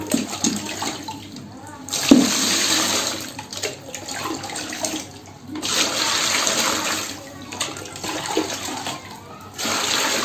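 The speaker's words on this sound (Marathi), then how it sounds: "पाणी किती टाकतोय मी बघा." Water pours and splashes steadily into a plastic mop bucket during a mop unboxing, running in long bursts with brief pauses between them, close and fairly loud.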